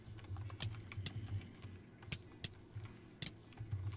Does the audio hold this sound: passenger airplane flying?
no